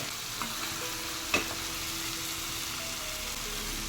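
Biryani masala stirred and sautéed in hot oil, a steady soft sizzle with one sharp scrape of the spoon partway through, close and fairly quiet.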